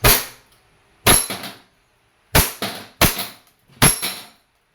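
A WE Hi-Capa T-Rex airsoft pistol fires five sharp, loud, close cracks, each followed by a short metallic clatter of the slide, spaced irregularly about a second apart with silence between.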